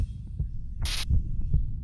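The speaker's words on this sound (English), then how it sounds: "I try to shut out the noise around me and focus on the sound of my heartbeat." Heartbeat sound effect from the visual novel DRAMAtical Murder: a steady run of soft, deep, muffled thumps pulsing at an even rhythm, with one brief brighter hiss-like burst partway through.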